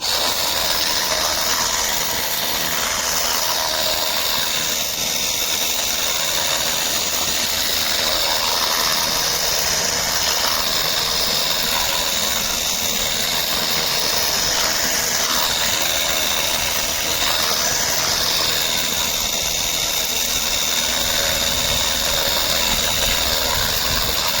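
Two Leader pressure washers, a Leader Lite 20V 28 bar and a Leader Ultra, run steadily during a spray distance test, making a continuous loud hissing motor drone with a bright spray whoosh throughout and no talking.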